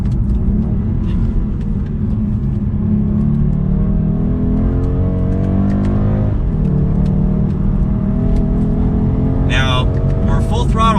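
A 2022 BMW 230i coupe accelerating at full throttle on a narrow road, the engine droning loud and steady with its pitch climbing through the gears, heard from inside the car with a voice talking over it.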